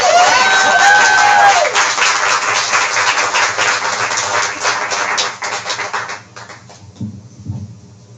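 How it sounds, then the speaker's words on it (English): Audience at a grown-up storytime event applauds a reader, steady dense clapping with some cheering that thins and fades toward the end. "Please clap for her."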